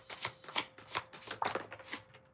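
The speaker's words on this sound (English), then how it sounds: "it's really hard to shuffle." Brisk riffling and slapping of a thick, oversized deck of cards being shuffled, a few quick bursts close to the microphone with no talking.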